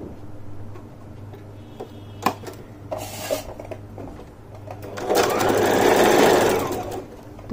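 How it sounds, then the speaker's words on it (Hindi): A sewing machine stitches the folded hem of a kaftan, running in short bursts with clicks and pauses, then a long steady whirring run near the end, close and loud with no talking. "तो चारों तरफ हम इसी तरह सिलाई लगा देते हैं इसे मोड़ते हुए"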